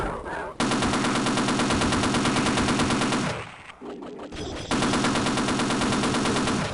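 Automatic gunfire in the video game Half-Life, a loud rapid stream of shots that breaks off briefly for a short clattering gap, then resumes just as fast and close.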